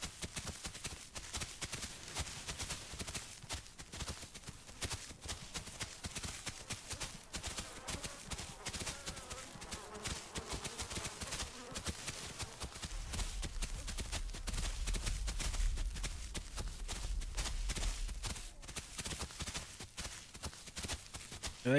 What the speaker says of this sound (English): They got some heavy ass footsteps.